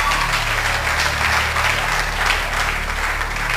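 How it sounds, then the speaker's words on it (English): Applause from an audience at a competition, a dense and steady wash of clapping that fills the whole stretch at close range. "Truly, I think they deserve a round of applause."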